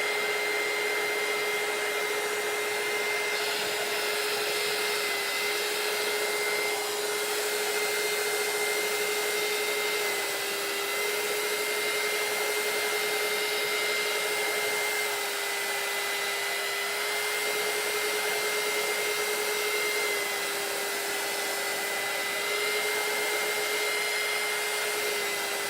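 Hair dryer blowing steadily on a T-shirt decorated with tacky paint, a loud constant whine with a high tonal hum that runs unbroken for the whole stretch with no talk.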